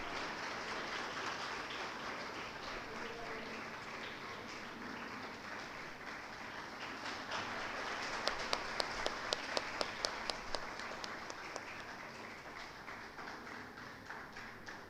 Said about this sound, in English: Let us keep the claps going on